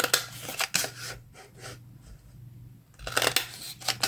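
Scissors or a border punch cutting paper into decorative borders for junk journal tags, a few close crisp snips and crunches with a quieter rustling stretch in the middle, no talking.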